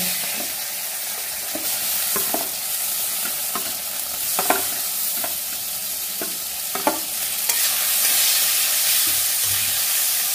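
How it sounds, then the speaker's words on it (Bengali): Potatoes frying in the leftover oil from frying rohu fish for a curry, a steady loud sizzle with repeated scraping stirs from a spatula, no voices. "আলুগুলোকে একটু আগে ভাজা ভাজা করে নিয়ে,"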